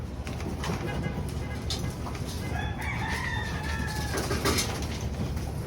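Pigeons cooing amid a dense, continuous chorus of bird calls, including a Blue Bar pigeon, with a rooster crowing partway through, fairly loud and close.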